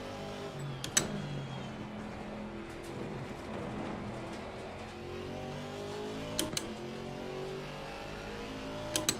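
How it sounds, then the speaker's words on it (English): A Camaro GT4 race car engine in Assetto Corsa Competizione revs and climbs through gears, rising and falling in pitch, with a few sharp clicks at the start and near the end. "Sounds like a race car should sound!"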